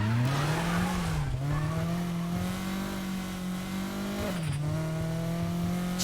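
A car in the racing game NFS Heat, driven with a USB external handbrake, sends out a sustained engine drone that dips and swells as it slides into drifts, with tire noise through the turns, loud and continuous.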